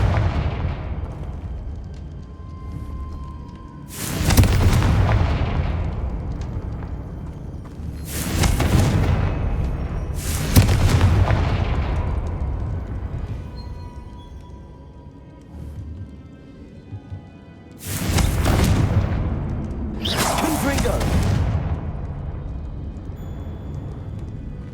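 Five heavy, booming blasts from the Confringo explosion spell in the video game Hogwarts Legacy, each a sharp loud hit fading into a long rumbling tail, set apart by a few seconds over a steady game background.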